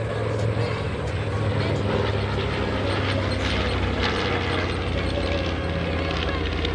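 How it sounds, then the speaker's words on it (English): North American B-25 Mitchell bomber flying past at an airshow, a steady droning engine roar under a commentator's voice over the public address. "B-25 Mitchell bomber."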